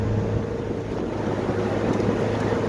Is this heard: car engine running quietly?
yes